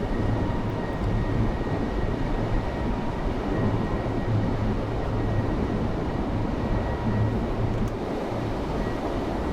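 Strong, steady wind noise fills the cab of the ScotRail Express in Train Sim World as the game train runs from Edinburgh to Glasgow, a continuous loud rumble and roar with no break.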